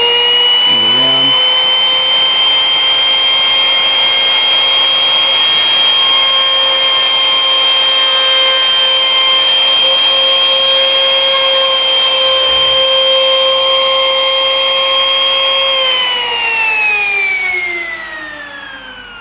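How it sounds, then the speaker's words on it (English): A router runs at high speed with a steady, piercing whine as it is worked around a bead, holding constant pitch before winding down near the end. "turn it on without the router touching the bead, push it in, move it around."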